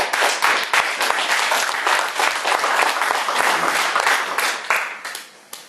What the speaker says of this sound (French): Félicitations, je pense qu'on peut les applaudir